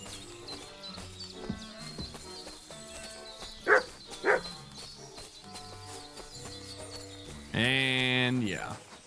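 A dog in the video game Kingdom Come Deliverance II gives two short, sharp barks in quick succession over game music and background ambience, with other in-game sounds before and after.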